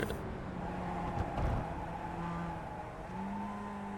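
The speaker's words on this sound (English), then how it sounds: "And you can hear that tire squeal." A race car in an iRacing sim race at the Rudskogen circuit drones with engine noise, and tires squeal in drawn-out tones as it corners, heard continuously without talk.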